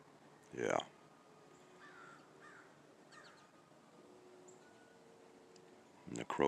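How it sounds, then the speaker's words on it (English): A crow caws in the woods on an early winter morning, one loud close call near the start and another at the end, with faint distant bird calls in the quiet between. "And the crow sounds off once again."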